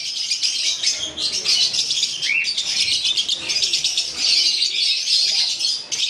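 Dense, high chattering chirps from many lovebirds, including red-eyed ones, fill the air continuously at a bird farm, loud and close, with no voices.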